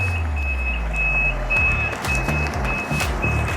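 A gravel delivery truck reverses, its back-up alarm beeping in an even repeating rhythm over a low rumbling diesel engine and some clunks, fairly close and loud.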